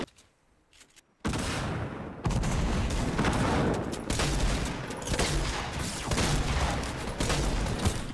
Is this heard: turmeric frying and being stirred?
no